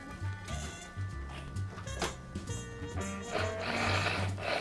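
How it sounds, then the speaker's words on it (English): A blender purees barbecue bacon cream for ice cream, its motor whirring in uneven, pulsing surges that rise and fall, fairly quiet and close. "I'm going to take a blender. Now what this is going to do is I'm really going to puree this"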